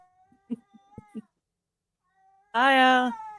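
A loud, drawn-out cat yowl bursts in near the end after a stretch of faint, scattered background noises.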